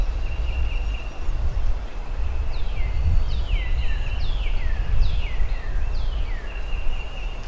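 A wild turkey gobbler gobbling repeatedly, several rattling calls a second or so apart at a moderate distance, over a constant outdoor wind and rumble.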